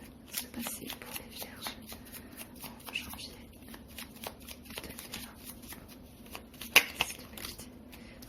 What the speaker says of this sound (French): je vais tirer 3 cartes de ce petit jeu Oudou le Normand